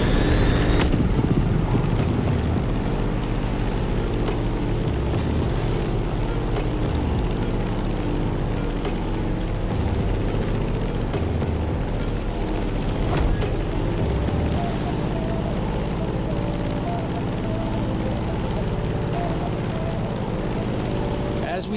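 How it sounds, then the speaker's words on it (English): Grumman F8F Bearcat piston-engine fighter in The Crew Motorfest, a steady loud propeller drone with a rich low-frequency engine hum that holds throughout with minor fluctuations. "In the cockpit of a stunning Grumman F-8F Bearcat, or simply the Bear"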